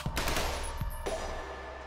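Shotgun blasts in a video game battle, a few sharp loud bursts in quick succession near the start, then a ringing tail over steady background noise.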